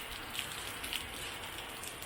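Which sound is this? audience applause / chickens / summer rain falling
summer rain falling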